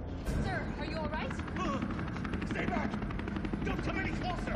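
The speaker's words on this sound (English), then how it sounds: "There's a helicopter waiting to take you to safety." Helicopter rotor chopping in the video game Resident Evil 3, a steady rhythmic thump running beneath game voices and other effects.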